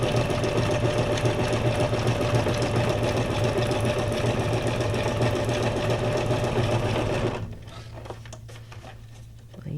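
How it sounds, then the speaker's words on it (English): A sewing machine runs a zigzag stitch in pink thread across fabric scraps, a steady loud rhythmic whirring for about seven seconds before it slows and stops, leaving faint handling noise. "I'm going to do my little regular zigzag stitch"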